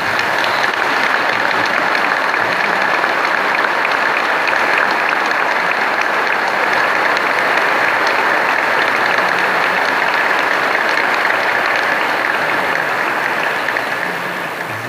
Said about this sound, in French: ces familles méritent notre applaudissement